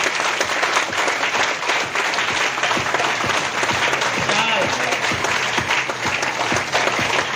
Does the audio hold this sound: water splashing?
no